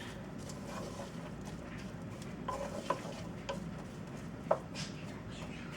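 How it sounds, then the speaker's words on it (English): Sausage pilau stirred in a pot, a soft continuous scraping and gentle sizzle with a couple of light utensil taps against the pot, low and close. "we're going to stir that around a little bit."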